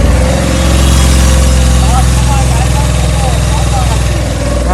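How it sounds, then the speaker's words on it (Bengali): Old used Laguna vehicle engine running loud and close with a steady low rumble, held revs throughout, while someone talks over it. "ইঞ্জিনের সাউন্ড তো ভালোই মনে হচ্ছে"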